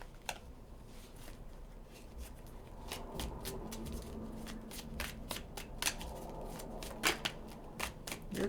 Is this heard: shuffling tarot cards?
yes